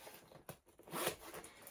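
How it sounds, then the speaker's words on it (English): A zipper runs along a Ship John Wills jacket in a quick, faint rasp. Softer handling rustles of the coat fabric come just before it, and no one speaks. "kind of hard to zip it that way"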